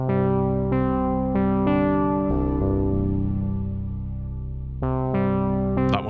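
A warm polyphonic synth plays sustained chords, its notes smeared with tape wobble, lush reverb and echoing delay.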